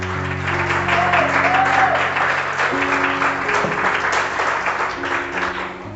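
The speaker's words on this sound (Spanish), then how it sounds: "Y déle ese fuerte aplauso al Señor" A church congregation claps loudly in praise during a Spanish-language service, with sustained organ or keyboard chords ringing underneath the steady applause.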